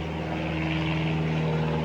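A propeller airplane passes overhead during an outdoor yoga session, a steady droning engine hum with strong low tonal harmonics, loud and continuous throughout with no talking.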